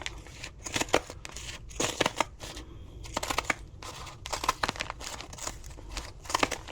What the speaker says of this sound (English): I'm just going to start cutting out my heart